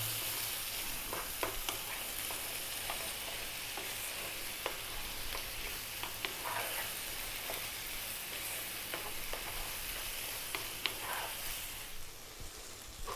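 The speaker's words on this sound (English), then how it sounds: "our tomatoes and onions are cooking down nicely" Tomatoes and onions cooking down for a lamb bhuna curry, a steady dense sizzle in the pan with scattered small pops and crackles, close and even throughout.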